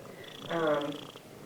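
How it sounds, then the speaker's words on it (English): A cat purrs close by, a soft rumbling buzz that swells for about a second before fading. "She's purring right now so loud"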